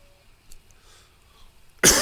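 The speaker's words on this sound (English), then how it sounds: "almost went a whole episode without coughing" A single loud, sharp cough breaks in abruptly near the end after quiet background, coming from someone playing Farming Simulator 15.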